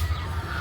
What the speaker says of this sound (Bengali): এতে আছে রাজা হাঁস,